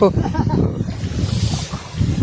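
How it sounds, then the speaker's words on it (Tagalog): Strong gusts of wind rush over open water near an island, a loud, rough buffeting that roars throughout with no voices. "Lumakas na naman ng hangin."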